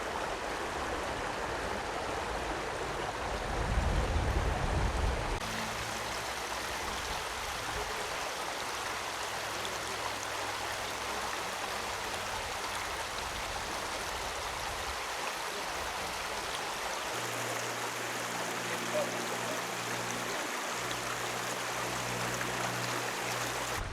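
Stream water rushes continuously at Dinosaur Valley State Park, a steady broadband wash close by, with a louder splashing burst early on as someone wades through in sandals.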